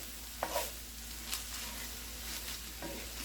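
Onions for taco filling sizzle steadily in a pan, a soft continuous frying hiss with a few brief stirring scrapes and clinks, close and moderately quiet, with no talking.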